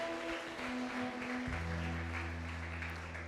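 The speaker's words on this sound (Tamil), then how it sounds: "நல்லா கைத்தட்டி ராஜாதி ராஜாவுக்கு தேவாதி தேவனுக்கு" A church congregation claps hands during a Tamil worship song, a steady wash of applause-like noise under sustained keyboard or organ tones that swell midway through.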